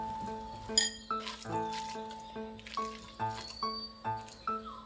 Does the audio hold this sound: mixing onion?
yes